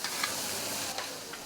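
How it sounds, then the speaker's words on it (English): Food sizzles on a hot griddle at a busy stall at the Bolton Food and Drink Festival, a steady close crackling hiss with a few sharper spits, and no voices. "A sizzle to tempt vast crowds of passing foodies."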